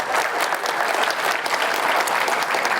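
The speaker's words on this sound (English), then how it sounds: "So a round of applause to everybody." Applause fills the hall at a scale modellers' awards presentation, a loud, sustained crowd clapping at an even intensity from start to finish with no break.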